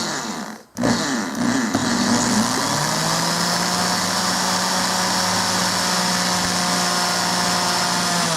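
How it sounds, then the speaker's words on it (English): A power drill boring a hole through a leather pocket holster made for a Boberg XR9-S pistol, starting abruptly after a brief gap and then running as a loud, steady whine for several seconds. "I just need to drill a hole big enough for that post to pass through"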